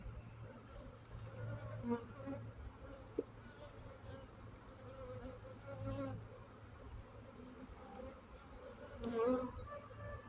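Honey bees hum around an open hive in sunshine, a steady, soft buzz that drifts close and away, with a few faint knocks and no speech.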